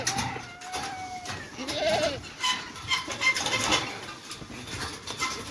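Goats in a farm enclosure give several short bleats over a background of rustling and shuffling, fairly close, with a bird call or two mixed in and no talking.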